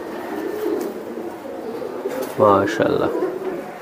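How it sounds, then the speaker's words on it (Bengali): A racing pigeon of club stock coos in a short, low burble, close by, while someone talks steadily over a soft room hum. "এই যে আরেকটা কবুতর, মাশাআল্লাহ ফেমাস কবুতর"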